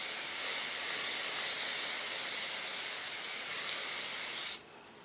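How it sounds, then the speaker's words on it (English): Sephora airbrush foundation mist sprayed from a can in a continuous close, loud hiss lasting about four and a half seconds, then stopping abruptly. "Close your eyes and spray in a circular motion"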